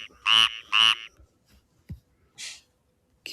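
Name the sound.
Cuban tree frog call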